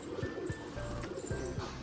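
Repeated soft pigeon coos, low and rounded, pulsing in a steady rhythm close by with a faint hum behind.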